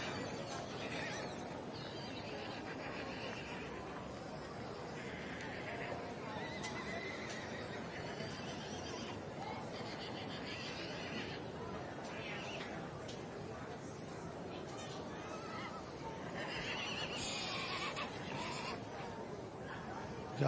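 A mare neighs in a busy show ring at an agricultural show, whinnies and hoof clip-clops rising over steady crowd chatter and a commentator's voice, with birds faintly in the background.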